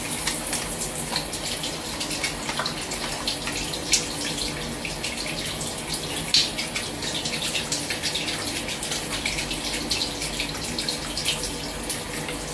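A shower runs steadily, with a loud, continuous hiss of spraying water and small splashes, close by and without a break.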